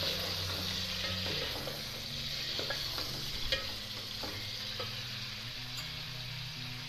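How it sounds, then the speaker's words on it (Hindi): Half a kilo of chicken sizzles in a pan over browned onions, a steady close frying hiss with occasional stirring clinks and scrapes, no voices. "इसमें हम डालते हैं चिकन। आधा किलो चिकन है, इसको ज़रा फ्राई करते हैं थोड़ी सी।"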